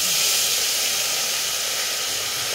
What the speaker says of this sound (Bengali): এবার মাছগুলো দিলেই তো ফুটুস ফাটুস ভাজা শুরু করবে।